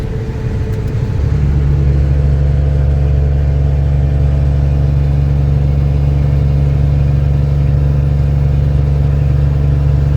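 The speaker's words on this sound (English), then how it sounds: "The old 2001 International 8100. The ISM 11 Cummins." A 2001 International 8100 dump truck with a Cummins ISM 11 diesel engine rumbles steadily from inside the cab on a highway run through western Maryland, a deep continuous drone that swells slightly after the first second and stays loud throughout.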